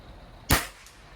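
A single sharp gunshot from a Pantera rifle fired without a silencer at an outdoor shooting session, one loud crack with a short decaying tail and a faint echo, no voices.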